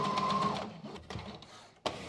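A sewing machine runs in a short burst while stitching a seam on a wedding suit's front lining, then stops, followed by a few faint handling sounds and a sharp click near the end.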